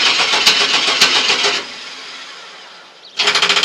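Car engine at a junkyard cranking with a fast, rhythmic starter chug, cutting out into a quiet lull, then cranking again in quick pulsing bursts; close and loud.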